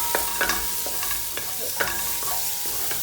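Oregano and thyme toast in a hot pan for a homemade tomato pasta sauce, giving a steady light sizzle with several scraping stirs of a spoon, close and moderately loud, no voices.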